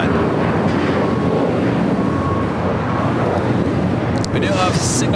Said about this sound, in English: That is that Turkish Dreamliner arriving there on the north side.